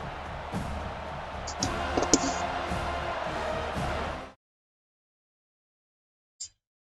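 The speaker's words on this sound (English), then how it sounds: "this crowd is fired up. Listen to this noise here." A loud video game stadium crowd at a FSU versus Houston football game roars steadily for about four seconds with rising cheers, then cuts to silence with one brief faint blip near the end.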